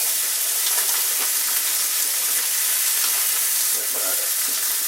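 Bacon strips frying in a hot pan, with a loud, dense, continuous sizzle and crackle up close, with occasional soft stirring knocks.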